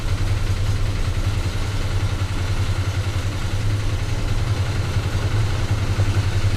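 The engine of a Ford F100 4x4 truck runs steadily nearby with a loud, constant low rumble and faint mechanical clatter, and no voices are heard.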